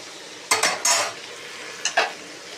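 Okra and potato pieces fry in a pan over a soft, steady sizzle, broken by a few short, close scraping bursts of stirring.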